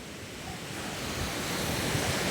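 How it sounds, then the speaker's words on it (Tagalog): Steady wash of sea waves at a litter-strewn shore at Bucana, a broad continuous surf roar with some wind, no voices. "andito ako ngayon sa tabing dagat"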